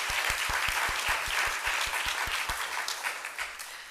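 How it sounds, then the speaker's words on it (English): An audience at a county animal-welfare event claps in a sustained round, with a few loud, evenly spaced nearby claps standing out against the crowd before the applause thins toward the end. "So let's give them another round of applause."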